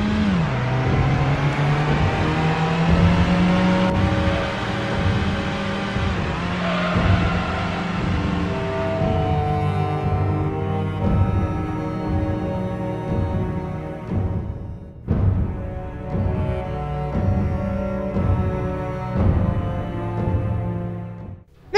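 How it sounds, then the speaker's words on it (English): A car is driven in the Minecraft video game, its engine holding a steady, droning hum that rises and falls in pitch with acceleration, loud and continuous with a brief dip partway through. "let's just get into my car and get out of here"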